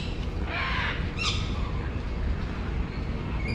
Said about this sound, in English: A couple of parrots here as well.